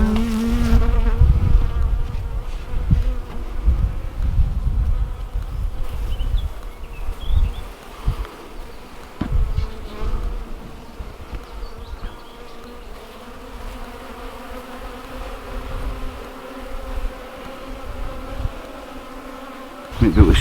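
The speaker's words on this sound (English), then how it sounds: "we'll open this up, bees will come out" Honey bees pour out of an opened transport box on a farm, a dense close buzzing swarm that rises and falls continuously, with faint handling noises and a brief murmur of voice beneath.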